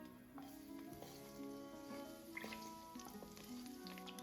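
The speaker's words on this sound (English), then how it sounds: "add the crushed garlic and briefly fry to release the flavors" Crushed garlic fries in olive oil in a saucepan that has just been used to cook chicken, giving a steady, moderately quiet sizzle. Faint tonal background sounds run beneath it.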